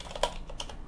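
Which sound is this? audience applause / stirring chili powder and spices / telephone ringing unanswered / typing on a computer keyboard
typing on a computer keyboard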